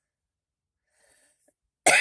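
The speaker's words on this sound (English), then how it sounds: "Cough, cough, cough, cough, cough." A single short, sharp cough bursts out at the very end after nearly two seconds of silence, close and loud with nothing else around it.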